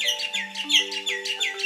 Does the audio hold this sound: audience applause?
no